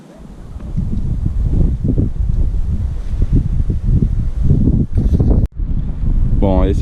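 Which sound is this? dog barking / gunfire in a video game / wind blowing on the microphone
wind blowing on the microphone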